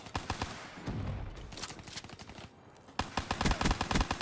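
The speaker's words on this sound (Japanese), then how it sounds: "この連射はなかなかのもんですよ" Rapid shotgun fire in Call of Duty: Black Ops 3, close, loud blasts in quick succession, a brief lull around the middle, then another fast string of shots.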